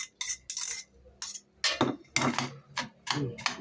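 Sharp, crisp crunches in irregular bursts, close and fairly loud, like someone biting and chewing crispy fried shredded chicken salad, with brief pauses between bites.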